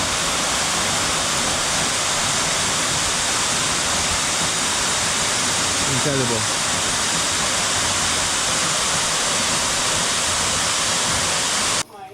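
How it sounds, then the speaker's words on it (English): Buruwisan waterfall in Laguna, Philippines roars as a loud, constant broadband rush of falling water that fills the scene, with a brief spoken remark barely rising above it midway. "Look at this waterfall."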